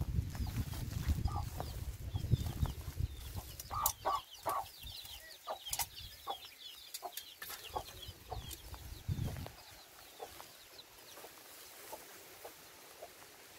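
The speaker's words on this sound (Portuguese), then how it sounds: "Tem uma galinha ali, né?" A chicken clucks in short bursts close by at a rural home, over a low rumble at first, while other birds chirp faintly in the background.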